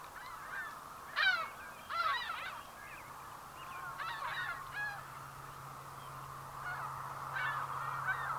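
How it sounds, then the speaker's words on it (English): Faint bird calls, a few short honking cries like geese, scattered every second or so over a steady low outdoor hum in Montana at golden hour. "Birds every now and then."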